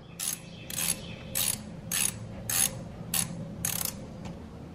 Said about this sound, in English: take your 14 millimeter, remove the two bolts, the top one and the bottom one